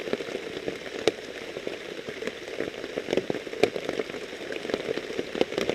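Heavy rain drums steadily on a tarp shelter in foggy woods during a deer hunt, a dense close patter broken by sharper drops striking now and then.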